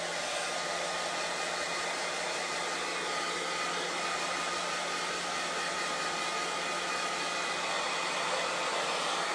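A handheld dryer blows steadily on a chalk craft project, a loud, continuous, even roar that runs alone without pause.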